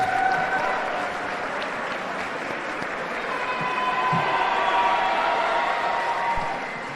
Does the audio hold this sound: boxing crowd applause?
yes